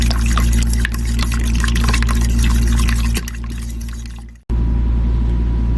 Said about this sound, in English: now I'm going to add the flour and water mixture to make a gravy